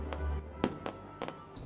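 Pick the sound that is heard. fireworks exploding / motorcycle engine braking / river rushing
fireworks exploding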